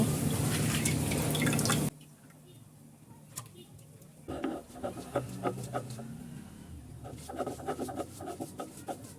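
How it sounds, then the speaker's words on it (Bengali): Masoor lentils are washed in water: a loud rush of pouring water cuts off, then close splashes, drips and sloshing follow as the dal is swirled and rinsed. "এখন আমি সুন্দর করে ডালটা পরিষ্কার করে ধুয়ে নেব"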